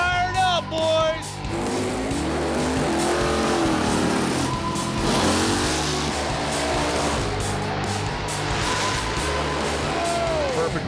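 Several drag racing cars rev hard and launch from the start line, a loud continuous roar of engines with rising and falling pitch, while voices talk over the noise.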